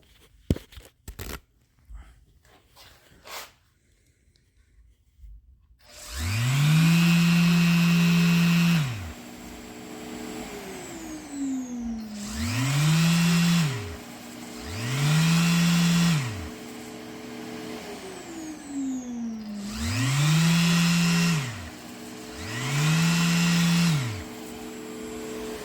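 A Mirka sander runs with a Festool dust extractor, a steady whining motor hum that cycles on and off in several bursts, the vacuum drone holding between runs, preceded by soft handling noises.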